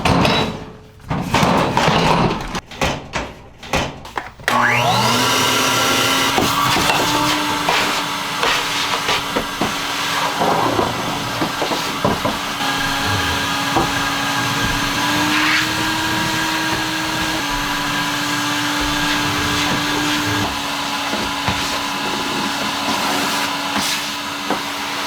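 A vacuum cleaner runs steadily indoors on a small North Idaho farm homestead in winter, a loud continuous whine and hiss starting after a few seconds of clattering handling noise and holding on throughout.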